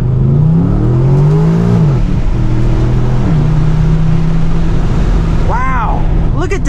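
An Aston Martin DBX SUV pulls away hard in first gear, its engine note climbing in steady harmonic sweeps, dipping briefly and rising again, heard loud from inside the cabin with a voice speaking over it.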